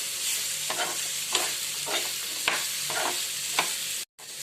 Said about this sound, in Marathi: आता टाकायची आहे भेंडी आता भेंडी पण मस्त परतून घेऊया